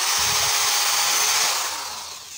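A power drill bores a hole near the corner of a bamboo slat for a fence or partition, a steady close, high whining grind running alone and tapering off toward the end.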